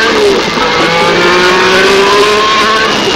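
A Renault Alpine A442B race car accelerating hard out of the slow Mulsanne corner, a loud, close engine note rising steadily in pitch through the gears, with no voices.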